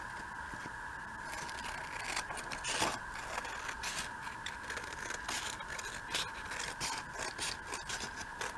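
Scissors cutting around paper pages for a craft project, a close, quiet run of continuous snipping and scraping strokes with no talking.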